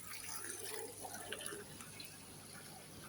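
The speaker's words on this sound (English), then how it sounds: "Let's go and have a look, see how fast the water's coming out." Water flows out through the PVC overflow pipe of a goldfish fry tank, a steady trickling and splashing that runs through the whole stretch, fairly quiet with no voices.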